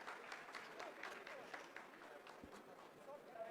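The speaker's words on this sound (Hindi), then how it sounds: "आप इस तालियों के गड़गड़ाहट को सुन सकते हैं" Scientists in mission control applaud during the Chandrayaan-3 moon landing, steady distant clapping heard faintly beneath a commentator's voice.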